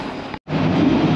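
Paris Metro Line 2 train in a station, a steady loud rumble of the moving train that briefly cuts out and then resumes, with no speech.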